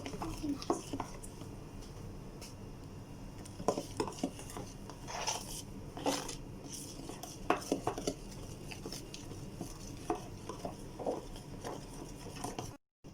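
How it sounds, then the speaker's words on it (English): Gram flour, turmeric and salt being stirred into a batter in a bowl, with scraping clinks of a spoon against the dish coming in irregular bursts, close, and a voice talking softly at times. "Nicely mix it so that there should not be any lumps formation."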